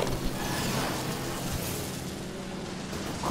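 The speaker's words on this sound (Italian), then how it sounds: "Vabbè, c'è il rumore della strada." Road traffic noise in a video game, a steady broadband rush of passing cars and motor vehicles with a low rumble, moderately loud and continuous, with no talking.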